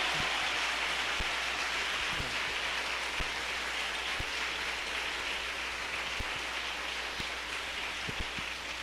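A church congregation at a parish anniversary in Morrinhos, Ceará applauds in a long, even wash of clapping, sustained and somewhat distant, over a low steady hum.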